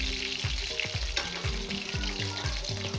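Seekh kebabs frying in a pan, a loud, continuous close sizzle with repeated clinks and scrapes of a utensil turning them; no talking.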